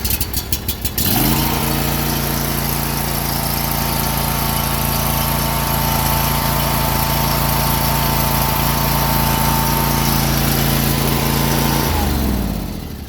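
A 27 hp Briggs Commercial series engine on a Bobcat mower runs at steady high speed with a loud, even drone and whine, close by throughout, then winds down near the end.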